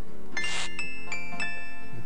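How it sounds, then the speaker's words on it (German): A short melodic chime in the adventure game Gabriel Knight marks points being scored: a bright run of several bell-like tones ringing out clearly and alone, then fading. "Also hat's jetzt ja dieses Klingeln gegeben. Ding, dong, da, ding. Das bedeutet, wir haben Punkte gemacht."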